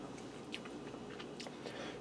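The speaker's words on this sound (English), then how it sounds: "It's crunchy on the outside, soft on the inside." Close, faint chewing of a crunchy open-faced croque monsieur with ham and cheese sauce, soft crunching bites over a low background hum.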